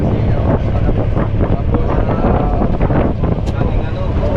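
Strong northeast monsoon wind roars steadily against the microphone at sea, a loud continuous buffeting rush with faint water and engine noise beneath.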